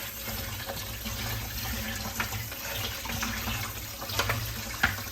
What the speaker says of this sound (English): I'm using cold water.